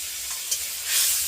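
Koi fish dropped into simmering Bengali curry, a brief soft sizzle and hiss with a small splash, faint and close, no voices.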